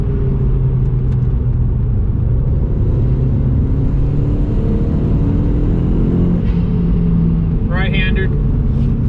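An Audi TT 225 engine drones loud and close, pulling hard in third gear on a canyon road, its note rising steadily before a quick shift-like break near the end.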